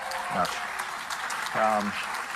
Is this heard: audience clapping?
yes